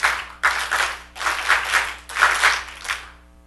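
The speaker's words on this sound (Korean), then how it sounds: "박수 소리는 매우 힘찼는데" A large group at a youth retreat claps in rhythm on cue, giving several bursts of loud, synchronized claps in a regular pattern that stop abruptly, then ends with a fainter final burst.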